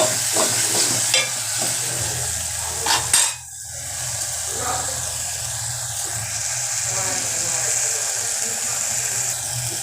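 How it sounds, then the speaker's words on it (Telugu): Chili powder, salt and turmeric are stirred into a curry in a pot, giving a continuous sizzling hiss with scraping and a few sharp knocks of the spoon against the pan. "కారం వేసుకొని మొత్తం కలిసేటట్టు కలుపుకొని"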